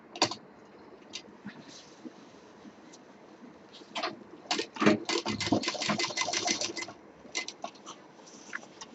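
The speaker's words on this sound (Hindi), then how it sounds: "अब इसको हम पूरा अच्छे से सिल लेंगे।" A sewing machine stitches 2-inch piping onto a fabric bag, with quiet handling at first, then a cluster of rapid clattering stitch bursts in the middle, close and soft.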